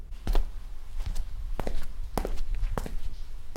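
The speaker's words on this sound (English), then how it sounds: "the previously recorded sound effects of the footsteps just sounded too fake and pale" Sneaker footsteps recorded as film sound effects: about seven distinct, fairly close steps in an uneven walking rhythm over a low background hum, with no voices.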